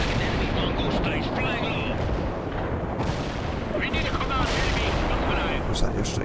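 An airstrike pounding a zone in the real-time strategy game World in Conflict: a thick, continuous roar of rumbling explosions and gunfire with sharper bursts rising from the din, and faint radio-style voices mixed underneath.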